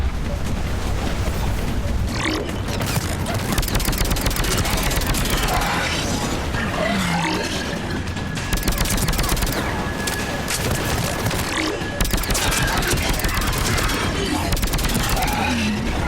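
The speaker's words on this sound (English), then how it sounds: "Commander, I've got enemy contact. Under fire." Heavy gunfire from a Mass Effect 3 video game firefight fills the whole stretch in a dense, continuous barrage of shots and impacts, loud and close, with a steady whining tone running through the middle.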